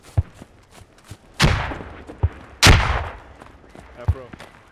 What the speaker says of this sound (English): That's the mortars, oh shit. I see the mortars.